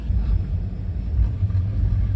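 Toyota Sequoia cruising around the block at normal driving speed, heard from inside as a steady low road rumble and engine hum, moderately loud and continuous.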